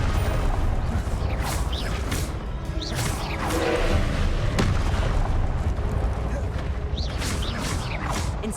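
Spell casting effects in the Hogwarts Legacy video game: a steady run of whooshing, crackling and booming magical blasts, loud and continuous, with spoken incantations over them.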